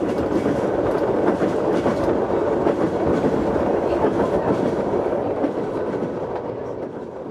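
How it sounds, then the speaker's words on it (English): A train rolls steadily along with a continuous rumble and rhythmic clickety-clack of wheels on track, loud and close throughout. "Sometimes it's better to take the train."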